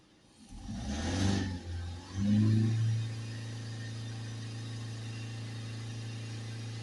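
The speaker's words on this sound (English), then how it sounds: "we're going to have to accelerate it a bit" A Ford Transit Custom van engine revs up twice nearby, rising and falling, then settles into a steady raised-idle drone that holds to the end.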